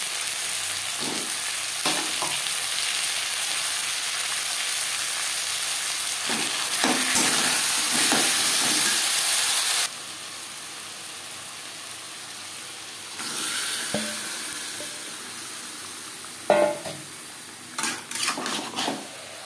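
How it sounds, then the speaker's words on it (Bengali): Marinated chicken with lightly fried onions sizzles hard in a pan, a dense frying hiss that drops sharply partway through, then goes on more quietly with spoon scrapes and clanks against the metal. "এবার দিয়ে দেব ম্যারিনেট করে রাখা চিকেন।"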